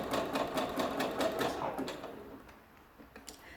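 A sewing machine runs fast while stitching stretched knicker elastic, a close rapid mechanical rattle that slows and fades out partway through, leaving quiet room tone with a faint tick at the end.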